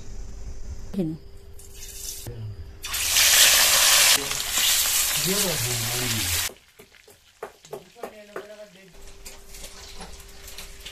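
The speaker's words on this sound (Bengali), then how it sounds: "গরম কড়াই মাছ ভাজার জন্য তেল দিয়ে দেবো।" Tilapia fish pieces fry in hot oil in a wok, bursting into a loud, bright sizzle for several seconds that then settles and fades out, with someone talking before, during and after.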